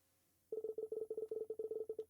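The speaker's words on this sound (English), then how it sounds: "dial the following number on the phone" In the video game Paper Lily, a telephone number is dialed as a quick run of about fifteen short, evenly spaced keypad tones, close and clear against a quiet background.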